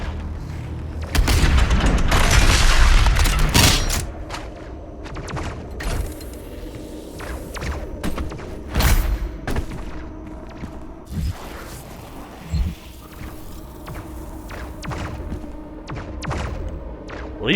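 Heavy booming gunfire from allied soldiers in the shooter game Doom Eternal, with a loud dense fusillade of blasts early on, then scattered thuds and shots continuing at a steadier, lower level.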